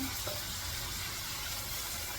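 Hot water pours into a cooking pan of fried onion, tomato and spice masala, a steady rushing fill mixed with faint sizzling, close and unbroken.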